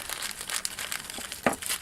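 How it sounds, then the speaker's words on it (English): Thin plastic baggie holding small gears being cut open with scissors, giving a soft continuous crinkle with a sharper snip near the end, close and fairly quiet with no talking. "this is in one of those little baggies that don't open without scissors"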